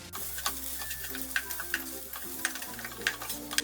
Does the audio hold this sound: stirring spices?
yes